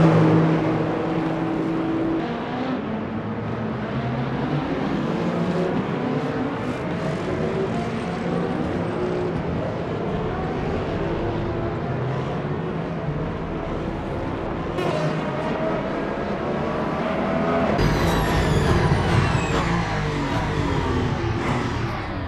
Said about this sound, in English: Toyota of Mike Conway, coming into 14 to the right.